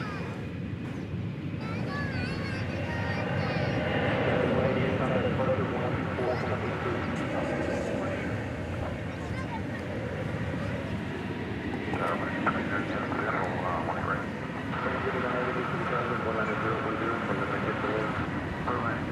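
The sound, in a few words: Turkish Airlines jet airliner taxiing at DFW Airport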